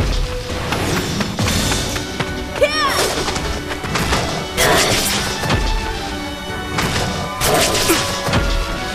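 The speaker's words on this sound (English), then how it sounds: "There's Kaim's critical attack" Critical attack by Kaim in the video game Lost Odyssey, a dense run of loud smashing and whacking impacts with whooshes and booming hits in repeated bursts over continuous battle noise.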